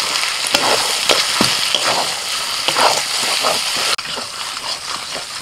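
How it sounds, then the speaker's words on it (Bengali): Mutton fries in a pan with a green paste of coriander and spices, sizzling loudly and close, with repeated scraping stirs throughout. "পেস্ট করা মশলাটা দিয়ে এবার আমি কিছুক্ষণ কষাতে থাকবো।"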